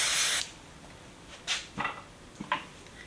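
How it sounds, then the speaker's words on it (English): A long hissing burst of hairspray at the start, followed by a few short, softer spritzes and light handling clicks. "spraying that working spray to prep it"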